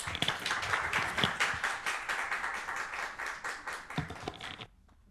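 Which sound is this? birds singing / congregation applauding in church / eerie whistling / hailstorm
congregation applauding in church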